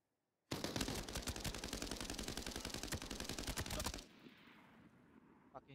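In a shooter video game, a close automatic weapon fires a rapid, loud burst of many evenly spaced shots lasting about three and a half seconds, then stops, leaving quieter game ambience and a faint click.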